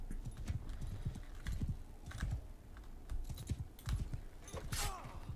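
Horse hooves clatter in a busy, uneven rhythm during a cavalry charge in Mount and Blade 2: Bannerlord, with dense low thumps throughout and a brief whinny near the end.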